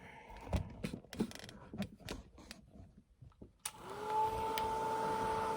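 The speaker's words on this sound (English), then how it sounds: "I'm going to go ahead and finish it with the dryer" A hair dryer starts up and blows a steady whooshing roar while melting wax off a Pysanky egg, after a series of scattered clicks and handling knocks.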